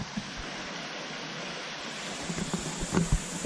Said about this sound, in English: There's one last little waterfall here.